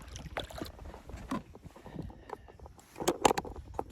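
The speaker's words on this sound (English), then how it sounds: "keep on paddling." A kayak paddle dips and pulls through water in an irregular rhythm of splashes and drips, with light wind and hull noise around it. The paddling is close and moderate in volume, with no talk.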